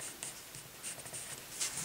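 Pencil coloring on paper, with shading strokes rubbing steadily in short bursts and a few brief pauses, close and fairly quiet with no voices.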